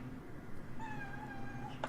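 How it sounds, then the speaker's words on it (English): An indoor house cat gives a single drawn-out, wavering meow that rises and holds for about a second, fairly close, over a low hum of room noise. "He just comes in here and just meows like incessantly."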